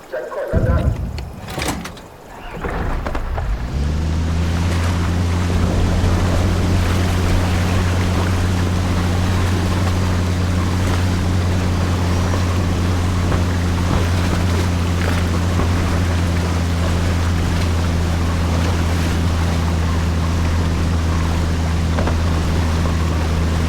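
Motorboat engine on a river in Hell Let Loose: Vietnam, starting up after a few seconds and then droning steadily and loudly with a strong low hum and water wash, close and continuous throughout.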